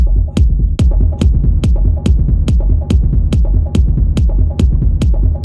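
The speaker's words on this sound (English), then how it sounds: "Let's just do the regular distortion." Techno music run through a Cubase distortion plugin pulses with a heavy buzzing low end, punctuated by sharp, evenly spaced hits about twice per second.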